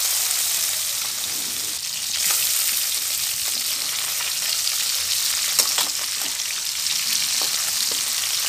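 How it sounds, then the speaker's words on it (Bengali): Small fish frying in hot oil give off a dense, steady crackling sizzle, close and fairly loud, with occasional sharper pops and faint clinks of a utensil throughout; no one speaks. "মাছগুলো ভেজে নেওয়া হয়ে গেল, তুলে নিচ্ছি"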